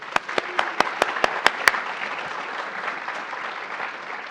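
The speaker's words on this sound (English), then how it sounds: "let's give an applause for Maggie Sally" Clapping at an academic awards ceremony for an honoree: about seven sharp, distinct claps ring out in the first couple of seconds, then fade into a soft, sparse patter from the audience.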